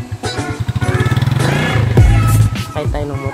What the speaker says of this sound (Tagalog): sakay tayo ng motor.